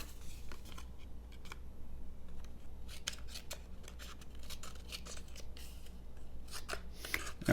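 Scissors on a budget Flissa 15-in-1 multi-tool, a Leatherman Wave clone, snip through material in a series of sharp, close, irregular cuts, some clustered quickly together, with no talking.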